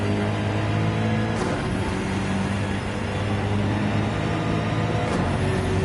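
A racing car's engine in Gran Turismo 7 on the Dragon's Trail circuit holds a loud, steady drone as the throttle comes back on after a corner, with a brief shift-like break near the start and another near the end.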